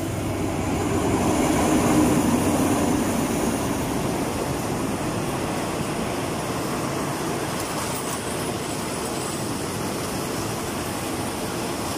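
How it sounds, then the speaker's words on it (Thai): A Thai passenger train bound for Hua Lamphong station in Bangkok rumbles in with a broad, steady roar of wheels on rails, swelling briefly at first, then holding a constant rolling noise. "รถไฟของเราก็มาแล้วนะคะมุ่งหน้าไปหัวลำโพงค่ะนะ"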